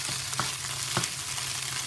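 Vegan potato scramble frying in a pan, a steady sizzle with a few soft stirring scrapes, close and moderately quiet, no talking.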